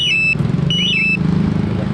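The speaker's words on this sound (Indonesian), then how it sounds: "Mesin mati alarm bunyi." A Yamaha NMAX scooter's smart key alarm sounds with the engine off: two rising-and-falling electronic warbles, loud and close, over a low rumbling background.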